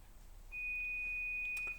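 A single steady high-pitched electronic beep, thin and clear, lasting just over a second against faint background hiss.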